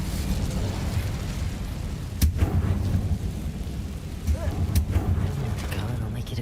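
The Incendio fire spell cast in Hogwarts Legacy, two sharp fiery bursts a few seconds apart over a steady low rumbling background, each with a brief crackling flare.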